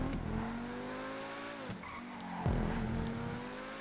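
Truffade T20 sports car in GTA Online, a loud engine revving and droning steadily with gear shifts, a sharp dip and re-acceleration midway, tire noise under it.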